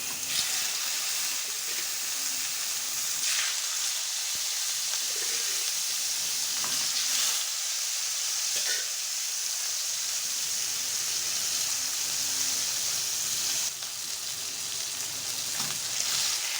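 Pieces of catla fish frying in hot oil in a pan, giving a steady loud sizzle and hiss that runs continuously with occasional soft crackles and no voice over it.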